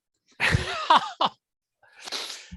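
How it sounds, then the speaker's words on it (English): A loud, muffled sneeze bursts out, followed by a brief pause and a softer breathy exhale, with no talking. "then a loud muffled sneeze"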